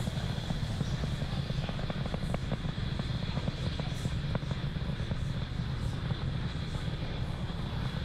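Falcon 9 first stage engines during ascent on a night launch, heard as a steady, dense roar with low rumble throughout, continuous and loud without pauses or voices.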